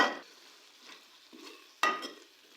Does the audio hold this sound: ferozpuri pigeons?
no